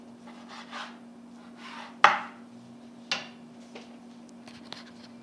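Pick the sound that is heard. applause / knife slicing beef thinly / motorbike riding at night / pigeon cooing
knife slicing beef thinly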